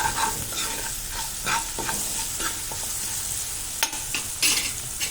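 Spices being stirred into a kadhi mixture in a pan, with repeated scraping strokes of a spoon over a soft sizzle, close and alone.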